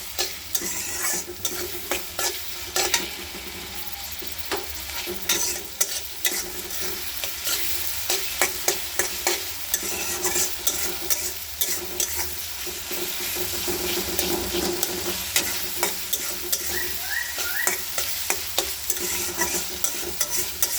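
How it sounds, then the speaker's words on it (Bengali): Garlic, onion, green chili and salt frying for a red spinach stir-fry, a continuous loud sizzle with rapid scraping and stirring strokes against the pan, close and without talk. "আমি লাল শাক ভাজির জন্য এখানে রসুন, পেঁয়াজ, কাঁচামরিচ, লবণ সব দিয়ে দিচ্ছি স্বাদ মতো।"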